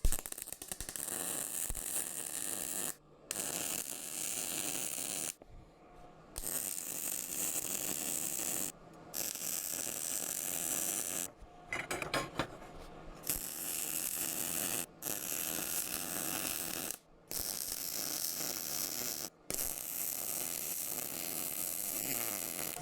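Arc welding of metal wall brackets on a trailer, welding through a hole on each side: a steady crackling, sizzling buzz, close and loud, broken by several short pauses between weld passes.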